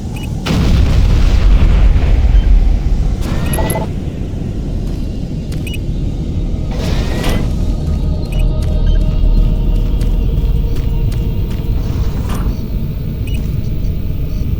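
A bridge blowing up in the video game Doom 3: loud deep booms and rumbling explosions over a sustained low roar, with a couple of sharper bursts, heavy and close, with no speech.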